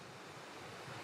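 Wind gusting steadily outdoors on a changeable, rainy and sunny morning, a broad continuous rush with buffeting on the microphone and no voices.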